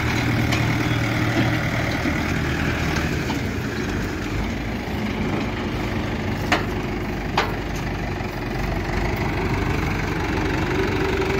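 A Mahindra 575 XP Plus tractor with a harrow attached runs steadily at a low, rumbling idle-like pace, its engine droning continuously and close by with a couple of faint knocks and no talking.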